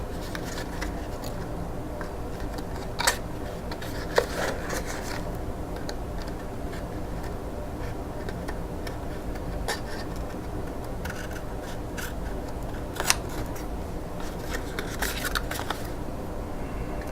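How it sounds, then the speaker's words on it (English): Grand Pro scissors trimming a small piece off a paper treat holder: a few sharp, quiet snips spaced several seconds apart over a faint steady background, no voices. "Simply take my Grand Pro scissors and trim that little piece off."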